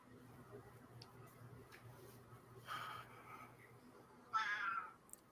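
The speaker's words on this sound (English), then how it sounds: "I hear a cat and it's making me laugh." A cat begging for dinner gives a couple of faint meows in a quiet room, the second louder and longer, over a low background hum.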